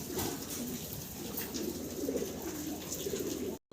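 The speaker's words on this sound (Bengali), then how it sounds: "একজোড়া মডার্না কবুতর দেখতেছেন আপনারা" Several Modena pigeons coo in low, soft repeated calls, close by, over a steady background hiss and faint chirps.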